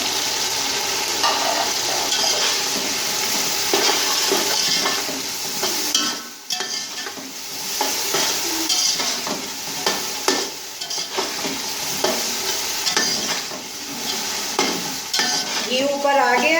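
Spices fry and sizzle in hot ghee for Punjabi chicken pulao while a spoon stirs and scrapes the pan, a steady close sizzle with repeated scraping strokes and a brief dip midway.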